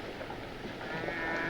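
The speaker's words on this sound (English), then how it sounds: "I love cattle." Cattle lowing in a 1968 western film, a single drawn-out bleating moo held at moderate loudness for about a second and a half over a faint background.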